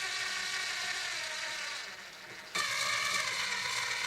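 Tuning machines on an Epiphone FT130 acoustic guitar being turned, a close, quiet, steady ratcheting gear whir that dips briefly and then resumes.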